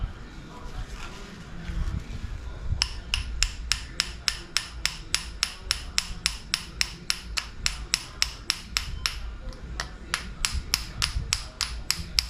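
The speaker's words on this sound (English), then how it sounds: "A little bigger hammer would be nice, I guess." Rapid metal-on-metal hammer strikes on a gas tank rotisserie, a steady run of sharp, ringing blows close by after a couple of seconds of low rumble, with faint background noise throughout.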